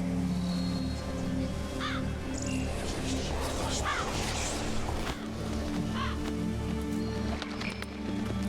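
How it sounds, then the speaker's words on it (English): A raven caws in The Witcher 3, a few short harsh calls over constant game music and ambience, with hoof-like clopping and a voice briefly in the mix. "What was that? A raven?"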